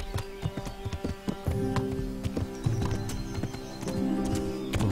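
Horse hooves clip-clopping at a steady gait while riding in the medieval video game Kingdom Come: Deliverance, with a few whinnies and rustles mixed in, close and continuous with no talk.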